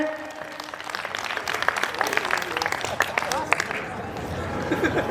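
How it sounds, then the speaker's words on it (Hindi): An audience at a bank's foundation day cultural program in Jodhpur claps loudly, a dense sustained round of applause with crowd murmur and voices underneath. "जोरदार तालियों से स्वागत करें।"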